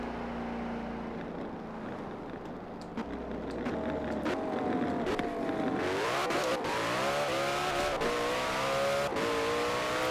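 The Koenigsegg Jesko hypercar in the Forza Horizon 4 racing game accelerates hard. Its engine note climbs and drops sharply through rapid short-geared shifts. The sound is loud, close and continuous, with no talking.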